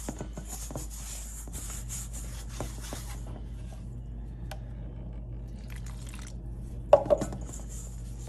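Hands squish and knead roti dough for potato roti as water is gradually worked in, giving soft, quiet, steady wet rubbing close up, with a sharper tap or two near the end.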